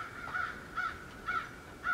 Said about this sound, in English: And we have the crows in the background.